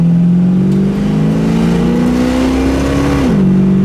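A 1973 Plymouth Cuda engine in need of tuning drones steadily at close range while driving, its pitch slowly climbing under acceleration, then dropping briefly as if shifting gears.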